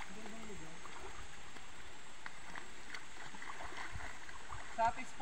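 A steady, soft wash of flowing water runs beside a lone house on a mountain trail, a continuous broadband hiss with faint scattered clicks and no talk.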